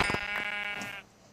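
A sheep in the Minecraft video game gives a single short bleat, close and fairly clear, fading out after about a second.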